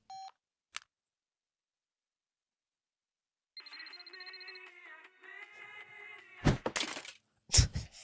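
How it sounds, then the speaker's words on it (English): A bright electronic ringtone melody plays alone for a few seconds, followed by two loud thuds or crashes. "That is a very Kyle ringtone, too."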